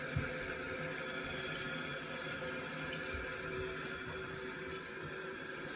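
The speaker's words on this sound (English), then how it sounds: "I'm gonna fill this up, give it a flush, see if anything leaks" Toilet tank in a bathroom refilling after a new Kohler toilet installation, a steady close rushing hiss of water flowing continuously throughout.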